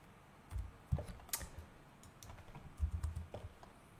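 Irregular bursts of key clicks from a computer keyboard while typing an email address into Python code, close and fairly quiet with short pauses between strokes.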